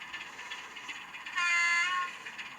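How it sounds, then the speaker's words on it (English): An OO gauge model train, a small Class 25 diesel, pulls away from a station on a model railway layout, giving a steady mechanical whir with a brief louder, squealing surge midway. "We're about to see a train leave Denshaw, one of the first ones, a little Class 25."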